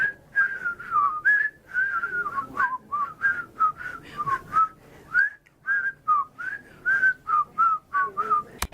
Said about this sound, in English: Last stop on the squad tour was whistling the theme song with Betty Lynn.